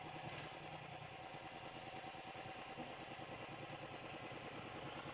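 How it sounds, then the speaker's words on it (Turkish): A New Holland T4.60S tractor works a field, its engine giving a steady, faint, low drone with light mechanical clatter throughout and no talking. "Gördüğünüz gibi maalesef zor şartlarda traktörümüzü kullanıyoruz."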